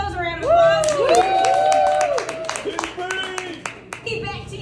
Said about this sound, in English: Go ahead, give yourselves a round of applause.